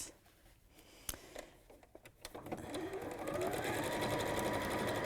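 Sewing machine running a satin stitch over fabric edges, starting with a few soft clicks and taps, then settling into a steady, fast, continuous whirring hum at moderate volume.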